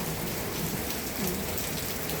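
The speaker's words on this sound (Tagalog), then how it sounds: "ulan na naman." Steady rain pours down outdoors in a tropical setting, a dense, continuous hiss of drops on surfaces, close and even throughout with no voices.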